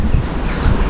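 Cold wind in Bydgoszcz, Poland buffets the microphone with a loud, rough, low rumble that surges briefly and stays constant through a short moment.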